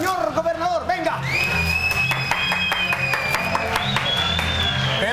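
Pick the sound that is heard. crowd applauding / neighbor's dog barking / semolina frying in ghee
crowd applauding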